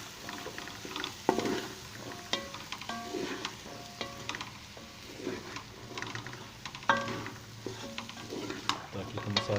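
Masala stuffing with chana dal for bitter gourd is stirred in a pan, quiet irregular scrapes and clinks of the spoon over a soft, continuous sizzle.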